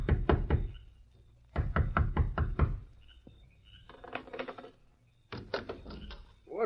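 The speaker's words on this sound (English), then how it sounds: "the door of the sheriff's home echoed with a loud knock" Loud door knocks in a radio drama, late at night at a sheriff's home: a quick burst of four raps, a pause, then a longer run of five, with softer knocking between and another rap at the end, alone without voices.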